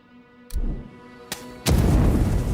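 Grenades exploding in the fantasy game Avowed: three sharp blasts, the last the biggest, followed by a loud rumbling roar that carries on to the end.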